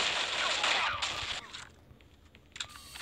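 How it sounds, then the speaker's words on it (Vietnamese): A 1014 shotgun fires in a video game: a loud, bright blast fills the first second and a half, then quieter action and a sharper burst follow as someone talks over the gameplay. "con 1014 này còn bắn nó còn chuất hơn nữa"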